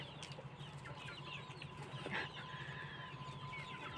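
Chickens clucking softly at a moderate distance amid outdoor ambience, with scattered short calls and a brief louder squawk midway.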